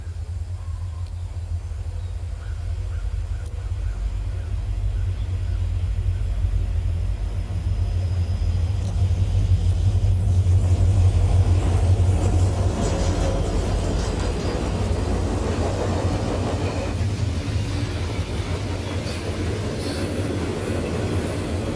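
A westbound Conrail freight train, led by a lease unit, rounds a curve through South Bend in the evening, a heavy low rumble that swells as it approaches and stays loud and continuous with rolling rail noise.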